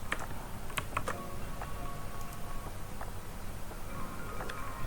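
A computer keyboard clicks through a short burst of separate keypresses, the Ctrl-Shift-G ungroup shortcut in Adobe Photoshop, followed by sparse scattered clicks over a steady low room hum.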